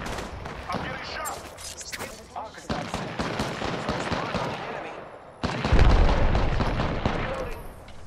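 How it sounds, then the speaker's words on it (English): Gunfire in the video game Apex Legends, rapid bursts of automatic shots and heavier blasts in uneven clusters, loud and close, with brief voice callouts in between. "I'm getting shot."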